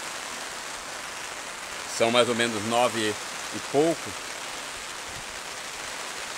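Steady rain falls over the city of Colatina on 2 November, a continuous hiss of drops on surfaces, while someone talks briefly over it.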